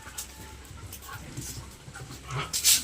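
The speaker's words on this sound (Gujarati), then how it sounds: "અને બધું કૂતરો મસ્તી કરે છે." A playful dog panting in quick, soft bursts near a home on a rainy day, with faint whimpers and a louder burst at the end; no speech.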